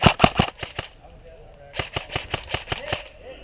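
An airsoft rifle fires two quick bursts of sharp snapping shots with a short pause between them, close and loud, with faint talk in the background.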